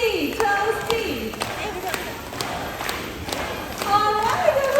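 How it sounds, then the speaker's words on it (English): At a Jurong Bird Park high flyer show, with the blue and yellow macaw Toasty, an audience gives scattered claps and chants the name, while a presenter's amplified voice carries over the crowd and a few bird-like whistles. "Okay, clap your hands and say Toasty, Toasty."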